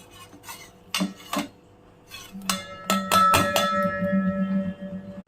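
Jaggery and tamarind are scraped and tipped into a metal cooking pot, giving sharp clinks and knocks of a spoon against the pot in uneven clusters, close and fairly loud, with quieter rubbing between them.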